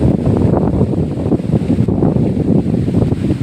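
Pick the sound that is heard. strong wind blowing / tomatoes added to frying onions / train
strong wind blowing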